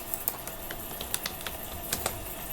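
Computer keyboard typing while entering data into an MS Excel spreadsheet, light scattered keystrokes in a quick irregular rhythm, close and fairly quiet, with no voices.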